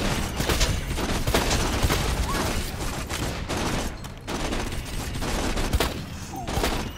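Bandit turret gunfire in Borderlands 2, loud and sustained: dense bursts of automatic shots with booming impacts fill the whole stretch, with only brief lulls between volleys.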